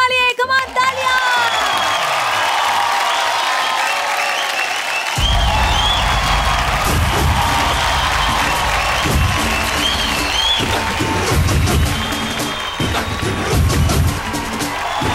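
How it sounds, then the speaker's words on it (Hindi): Loud audience applause and cheering at a Bhojpuri award show in Lucknow, with a crowd roaring, clapping and whooping continuously over music, building in intensity partway through. "कम ऑन तालियां"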